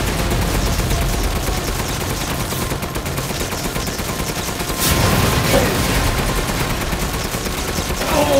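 Gunfire in Resident Evil Village, heard as dense, rapid shots and booming blasts that run continuously, loud and close, with a sharper burst near the middle.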